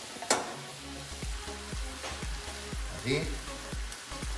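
A frying pan heats up for Mexican beef tacos with a steady low sizzle, broken by a few sharp clinks and scrapes, while a voice speaks briefly over it.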